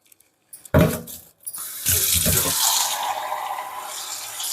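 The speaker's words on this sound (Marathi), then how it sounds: "आता याला आपण पाण्यात धुवून घेऊ" Soaked pigeon peas (tur) are rinsed in water: a sharp clatter comes first, then steady, loud, close running and splashing water that carries on alone without any voices.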